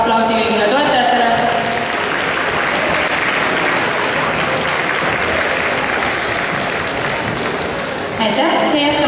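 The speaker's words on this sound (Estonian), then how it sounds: "Teeme suure aplausi kõigile toetajatele." Sustained, loud audience applause fills a dance competition hall, a dense wash of clapping lasting several seconds, with a little speech and music at the start and end.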